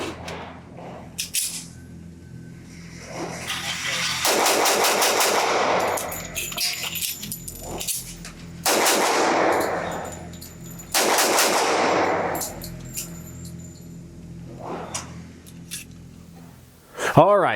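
Smith & Wesson Gunsite 1911 (SW1911PD) pistol fired at a range in several loud bursts of rapid shots, with quieter gaps and handling noise between the strings of fire.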